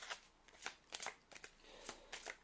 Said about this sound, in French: je vais mélanger mes cartes